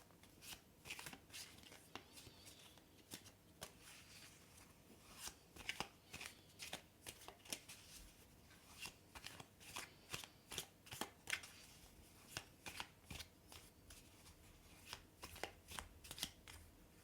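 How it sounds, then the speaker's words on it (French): Tarot cards are shuffled continuously for a long stretch, quiet and close, with soft riffling and sharp flicking snaps at an uneven rhythm and no talking. "Je vais retirer une carte."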